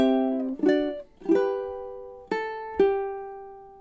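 Measure 3 of a song is played on a ukulele as five clear plucked notes in a slow, even rhythm, each ringing out close and bright before the next.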